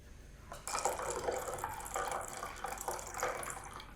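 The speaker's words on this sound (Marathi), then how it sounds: "आणि नंतर त्यावरती पाणी घालते" Water is poured into a glass over ice and mango concentrate, a soft splashing flow that starts abruptly and keeps going, fairly close but quiet, with no talking.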